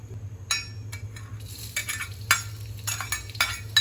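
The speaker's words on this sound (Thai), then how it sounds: "ตอนนี้ตั้งกระทะเผื่อ เอากระเทียมมาเจียว" Steady sizzling of garlic frying in a pan, with a utensil stirring and clinking against the metal at irregular intervals.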